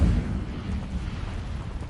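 A fire spell cast in Hogwarts Legacy lands as a loud low burst with a roaring rumble that keeps rolling for about two seconds, with no voices over it.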